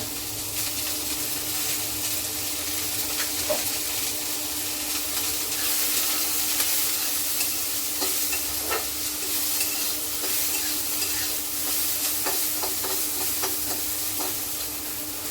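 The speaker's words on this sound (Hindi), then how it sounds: "बिना देर के चावल फ्राई कर रही हूँ।" Leftover rice frying in a pan, a steady close sizzle with scraping stirs and occasional clicks of the spatula throughout, no talking.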